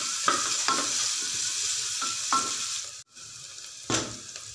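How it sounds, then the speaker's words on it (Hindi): Onions stir-fried on high flame for a bottle gourd curry make a constant hiss broken by several spatula scrapes. The sizzle drops out for a moment near the end, then another stirring stroke follows. "हाई फ्लेम में हम इसको भून लेंगे चलाते हुए"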